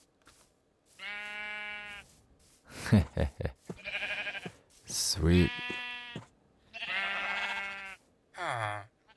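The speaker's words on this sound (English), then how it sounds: "I could use these sheep right away, too, because I can make a bed." Several drawn-out bleats from Minecraft sheep, clear and nearby, alternating with someone talking between the calls.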